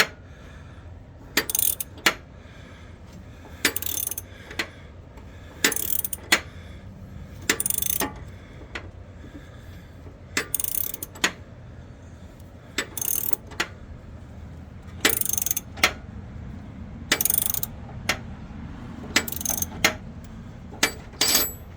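A hand ratchet snugs up bolts on a turbo Mazda RX7, bursts of quick clicking repeated about a dozen times with short pauses between, close and crisp.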